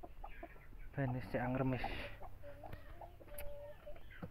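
Javanese chickens on a poultry farm cluck in short bursts close by, mixed with people talking throughout.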